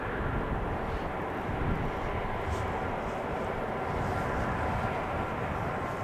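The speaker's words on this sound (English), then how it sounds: "the Air Dolomiti Embraer is becoming visible" An Air Dolomiti Embraer airliner approaches runway 18R at Amsterdam Schiphol. Its engines make a steady low rumbling drone throughout, fairly loud and constant, with no talk.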